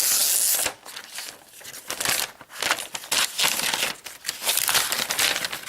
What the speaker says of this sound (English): let's go ahead and peel the plastic off